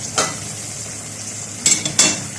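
Sugar, salt, cumin, black pepper and mastic stirred together as they fry in a pot, giving a low steady hiss broken by a few short scraping, sizzling bursts near the start and end.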